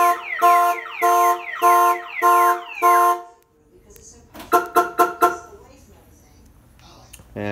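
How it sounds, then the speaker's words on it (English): A Viper 5105V car alarm on a 1996 Chevy Silverado sounds up close and loud: five rising-falling siren whoops, a pause, then four quick sharp chirps. "If the vehicle is hit or the doors are pried open, it will fire off the alarm."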